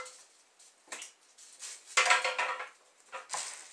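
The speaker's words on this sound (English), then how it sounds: "I'm going to put the onion in the pan just like this." A halved onion is set into a pan, giving a few quiet, scattered clinks and knocks of cookware with short pauses between them.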